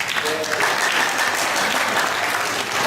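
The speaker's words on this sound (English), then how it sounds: "Clap." A conference workshop audience claps together, a broad, even wash of applause from a sizable crowd that holds steady throughout, loud and continuous with faint voices mixed in.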